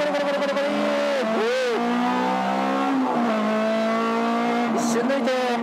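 A stripped-out Honda Civic EK4 with a swapped B18C engine laps Okayama circuit, its high-revving engine loud and close from inside the car, pitch climbing and dropping sharply through shifts and braking.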